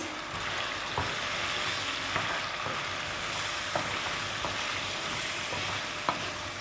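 Fried chicken being stirred with added spices in a pan, a continuous close sizzle with soft periodic scrapes and taps of the spoon, with no voices.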